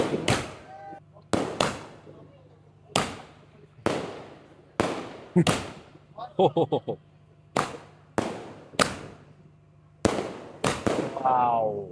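A string of loud firecracker blasts goes off one after another at irregular intervals during a celebration of an Indian cricket victory, each cracking sharply and fading, with brief voices between them.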